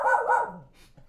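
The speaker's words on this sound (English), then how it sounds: "Oh, we got barks too." A dog named Charlie barks indoors: two quick, close barks in succession, followed by a softer trailing yip, with no talking over them.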